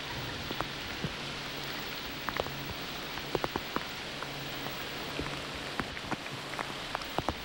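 Rain falling steadily on a riverside habitat, a dense continuous patter with scattered sharper drips and drops landing close by, with no voices.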